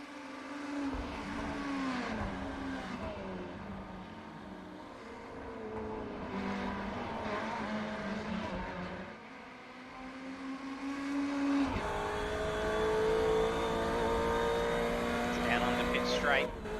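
A Ferrari 488 race car on a lap of Sebring International Raceway, its engine climbing and dropping through gears with sustained high-revving whine, loud and onboard, under a commentator's voice.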